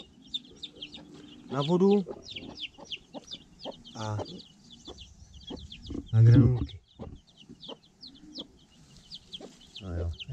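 Young chicks, on their second day outdoors in a garden enclosure, peep in quick, high, repeated chirps throughout, close by, while someone talks over them.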